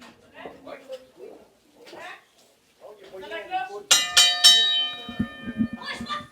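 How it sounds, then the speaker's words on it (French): Wrestling ring bell at an intergender wrestling show, struck in a quick burst of bright metallic clangs that ring on and decay, over a French commentator's talk and arena noise. "Et la cloche sonne."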